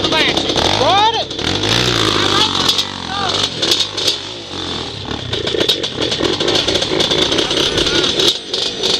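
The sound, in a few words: Banshee engine running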